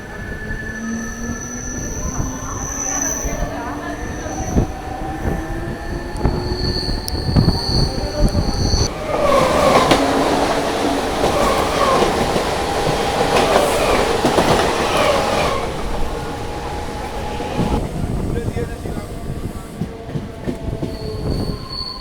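A Howrah to Bandel local train runs along the rails, its loud steady rumble overlaid with clickety-clack from the wheels and long high metallic wheel squeals that swell through the middle before easing off.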